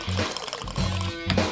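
Cointreau is poured over crushed ice in a cocktail glass, a short liquid trickle close by with faint clinks.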